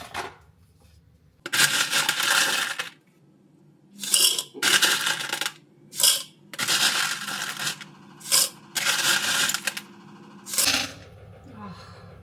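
Ice cubes are scooped and dropped into a coffee cup in several bursts, bright clattering rattles separated by pauses, near and fairly loud, with a low voice briefly at the end.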